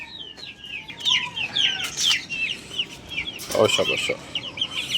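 Small Aseel chickens cluck and chirp in a run of short, close calls, with a brief spoken voice and a few knocks partway through.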